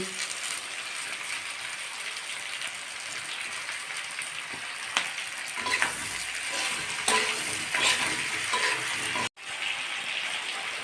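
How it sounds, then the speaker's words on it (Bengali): Potato, flat beans and tomato fry in a pan, giving a continuous loud hiss and sizzle, with occasional spoon scrapes and taps as the mixture is stirred. "আমি আলুর সঙ্গে সিমটা আর একটু ভেজে নেব"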